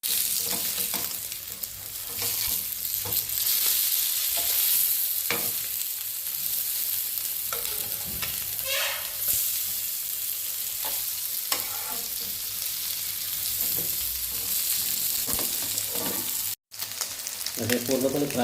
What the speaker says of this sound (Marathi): आता हे आपण फ्राय करतो आहे